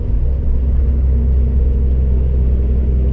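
Truck engine held at about 1000 rpm in 12th gear in manual mode, climbing the Serra do Cafezal mountain road, a loud, steady low rumble droning close by without a break.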